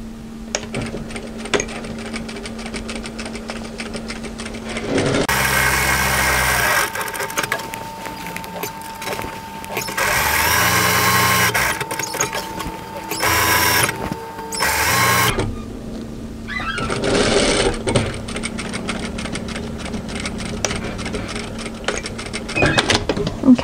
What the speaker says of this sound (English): Now I'm actually going to sew another line of top stitching parallel to the first, just to give this pocket extra reinforcing.